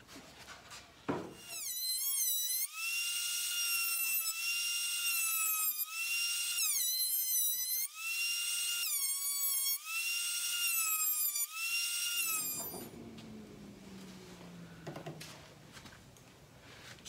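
Boards of old barn beam wood run through a thickness planer: a loud, high whine whose pitch dips briefly each time a board bites, repeating about every two seconds, then winding down into a fading hum.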